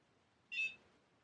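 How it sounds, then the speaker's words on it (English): A single short, high electronic beep from a NuFace facial toning device, clean and fairly faint against near silence. "once it starts beeping, you can start using it"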